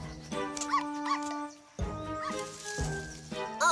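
A cartoon dog from the animated series Fireman Sam gives a few short yips and whining whimpers, close and fairly loud, spaced across a few seconds with brief pauses.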